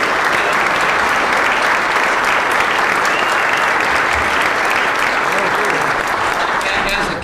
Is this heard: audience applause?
yes